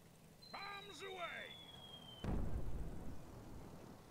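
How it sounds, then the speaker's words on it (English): A bomb explodes in the World War II air-combat game Until the Last Plane, a sudden heavy blast with a rumbling tail that follows a falling whistle-like tone and a brief voice, ringing out fairly loud. "We've got at least one more bomb that's going to drop."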